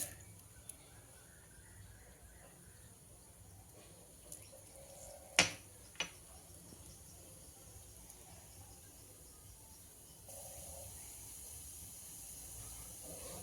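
Cumin seeds dropped into hot oil to temper a mookirattai spinach kadayal. A couple of sharp clicks come first, then a soft, steady sizzling hiss rises near the end.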